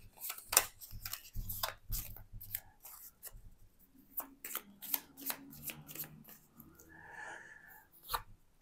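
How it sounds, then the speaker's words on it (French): Decks of game cards riffled and shuffled by hand in a quiet room, several quick papery bursts and flicks coming in clusters with short pauses between them. "puis je vais mélanger les paquets."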